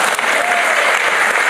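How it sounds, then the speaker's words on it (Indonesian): A church congregation claps together in a dense, loud burst of applause, steady and close throughout, with faint voices mixed in. "Puji Tuhan, tepuk tangan semua bagi kedua."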